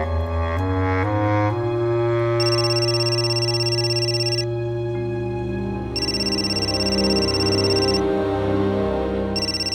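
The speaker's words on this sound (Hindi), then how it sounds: "किशोर, ताई का फोन है।" A telephone rings with a bright, electronic repeating tone in bursts, heard alone and fairly loud, with a steady musical hum underneath.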